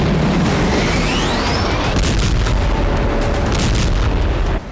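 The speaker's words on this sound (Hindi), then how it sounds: "लवीव में किंजल मिसाइल से जोरदार धमाका हुआ" A Kinzhal hypersonic missile explosion in Lviv, a loud continuous roaring boom filling the whole stretch, with rumbling low end and a faint rising whistle overhead.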